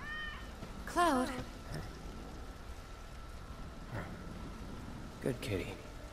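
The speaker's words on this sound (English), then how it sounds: "Good kitty." Cat meowing in the Final Fantasy VII Remake game, two short wavering meows, one near the start and another near the end, over a soft rain-like background hiss.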